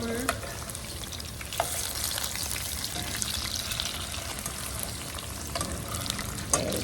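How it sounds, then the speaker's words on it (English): Fish pieces sizzle steadily in hot oil in a pan after being turned over for a fish molee, a constant crackling fry with occasional sharper pops and faint utensil scrapes. "once you fry the fish, and if you're doing it in several batches, make sure you add oil"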